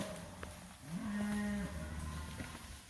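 A single cow moos once in a grazing field, a clear drawn-out low call lasting under a second at moderate distance, set against quiet outdoor ambience with faint background noise.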